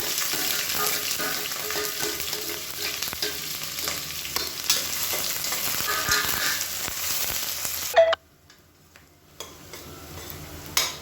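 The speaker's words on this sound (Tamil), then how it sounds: "இப்போ வெங்காயம் நல்லா வதங்கிடுச்சு" Onions and green chilli sautéing in a pan for chicken curry, a dense close sizzle with frequent spatula scrapes and clinks that cuts off abruptly near the end, leaving a few faint knocks.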